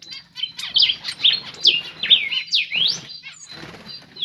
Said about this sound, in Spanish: esos son los pájaros que están en la pajarera,